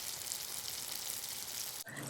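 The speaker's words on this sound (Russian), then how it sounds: "Звуки приготовления вашего завтрака." Breakfast frying in a pan: a steady, close, dense sizzle and crackle that runs unbroken for about two seconds, then briefly cuts out before resuming.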